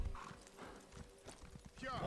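Rhythmic hoofbeats of a horse in the video game Elder Scrolls Online clop along at a steady pace, close and fairly quiet, with a brief whinny-like sound near the end and speech over them.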